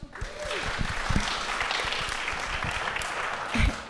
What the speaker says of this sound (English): Yes, applaud for these champions of democracy.